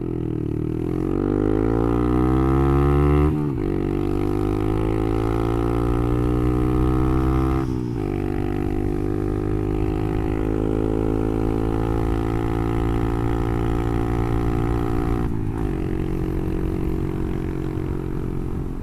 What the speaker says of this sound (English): So now I've got the RS3 exhaust on it, which sounds bloody fantastic.